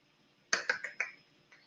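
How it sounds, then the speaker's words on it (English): A soft golf clap given during a live stream, about five light, quick claps close to the microphone, then one faint final clap. "And a golf clap, because that's less jarring on the microphone."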